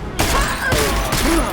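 Shotgun blasts in an FPS video game, three loud booming shots in quick succession, each with a ringing tail, close and heavy.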